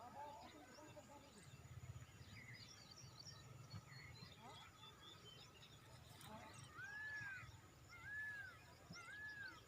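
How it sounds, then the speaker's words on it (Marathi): A peacock calls in the distance on farmland, with three short rising and falling cries near the end over quiet outdoor ambience and faint voices. "मोराचा पण आवाज येतोय वर वरडलेला"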